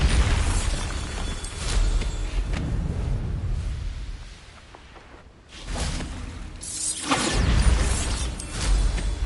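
Bombarda spell blasts from Hogwarts Legacy thunder in loud bursts, one near the start and another heavy boom past midway, with mechanical clatter and rumble between them.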